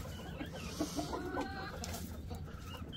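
Hens clucking in a farmyard coop, a cluster of soft, close clucks over a steady low background hum, with no speech.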